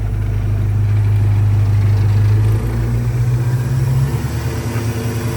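Chevrolet engine running on its carburetor, a loud, close, steady idle with a low throbbing note that rises slightly in pitch partway through, with no voices.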